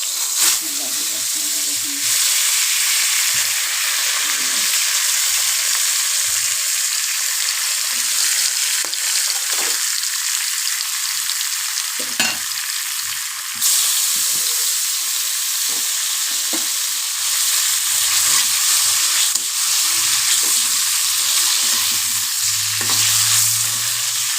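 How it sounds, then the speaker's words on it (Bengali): Small sar puti fish fry in a wok full of hot oil, giving a loud, steady crackling sizzle that persists throughout, with occasional soft knocks and a faint voice. "যে কোনো মাছ ভাজতে হলে তেলের কড়াইটাকে পুরো তেল তেলে থাকতে হয়"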